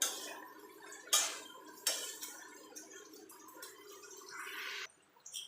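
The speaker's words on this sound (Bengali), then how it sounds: "এবার ভালো করে মশলার সঙ্গে বাঁধাকপিটাকে মিশিয়ে নেব।" Cabbage being stirred and tossed with spices in a pan, with a few sharp scrapes and clinks of a utensil against the metal over a soft continuous sizzle, close and fairly quiet.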